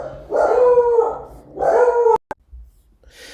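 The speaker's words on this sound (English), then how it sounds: "Dogs were barking." Pet dogs in a house give two drawn-out howling barks, close and loud, followed by a couple of sharp knocks and a faint rustle.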